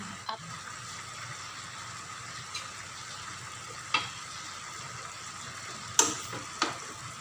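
Pinakbet with crispy pork simmers in a pot under a steady soft bubbling, with a few sharp scraping taps of a spoon against the pan as the vegetables and pork are stirred.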